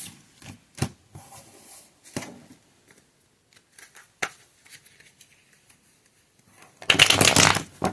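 A tarot card deck being shuffled close up: scattered soft flicks and taps, then a loud riffling burst near the end.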